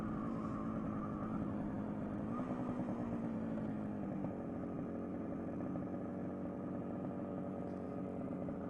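A Suzuki Hustler T250J motorcycle engine runs steadily and close by at a low idle-like rumble, with no talking.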